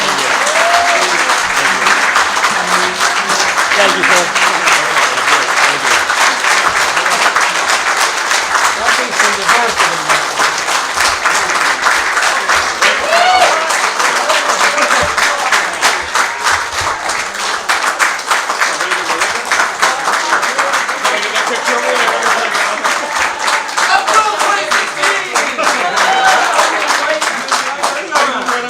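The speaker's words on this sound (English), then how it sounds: "another round of applause for our candidates" A convention crowd at an Indiana Libertarian gubernatorial debate gives the candidates loud, sustained applause, dense rapid clapping that fills the room for nearly half a minute, with a brief spoken thanks heard through it.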